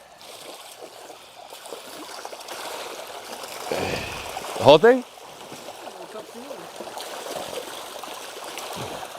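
Water trickles steadily where animals that are fed daily gather in Belize, then a sudden brief burst of splashing stands out midway as they feed; people talk nearby.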